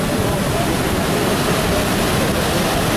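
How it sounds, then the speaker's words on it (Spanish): Strong sea swell and surf crashing against a pier give a loud, continuous wash of broadband roar with no breaks or distinct voices. "este fuerte oleaje que se está dando en estas horas"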